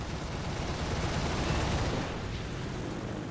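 Sustained heavy gunfire in War Thunder as a P-38 fighter is shot down during a realistic tank battle, a loud continuous rattle of shots for a few seconds before it tapers slightly.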